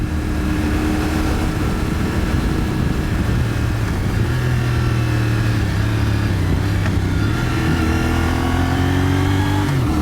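A CFMOTO 450SS sport motorcycle is ridden on Florida roads, its engine pulling hard and climbing steadily in pitch through the gears, loud and continuous with wind rush and no talking.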